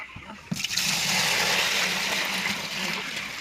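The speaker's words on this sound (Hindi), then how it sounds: "चलो इसको डाल लेते हैं दोस्तों बाल्टी के अंदर" Liquid growth-promoter mix for chickens pours into an empty bucket, starting with a couple of knocks, then a steady splashing gush that fills the rest, close up with no talk.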